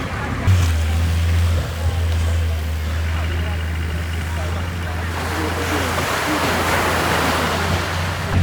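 Steady wash of surf on a beach with wind noise, broad and continuous, while a low engine drone runs beneath during an off-road car rally in a Citroen BX 4x4; a voice talks over it.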